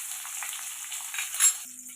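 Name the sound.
chopped onions frying in oil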